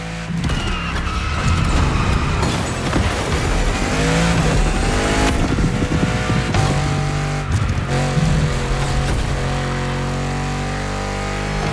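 Supercar engine in The Crew Motorfest, a game car later built for real, driving loudly with steady revving engine tones, tire noise and a busy game soundtrack layered throughout.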